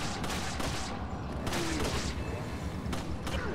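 Rapid gunfire in the survival horror game Resident Evil 4, a dense string of sharp shots over loud, busy game noise, repeating throughout without a break.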